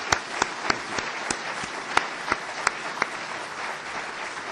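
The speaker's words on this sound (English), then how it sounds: "could we all give a round of applause to everybody that contributed to that?" An audience at a university event announcing a new president gives a round of applause, an even wash of clapping with a few sharp, distinct claps standing out near the front, continuing steadily throughout.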